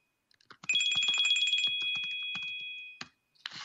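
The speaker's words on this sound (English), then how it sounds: "Sorry, my phone is ringing." An electronic phone ringtone trills for a couple of seconds, clear and close, accompanied by scattered clicks and taps before and after.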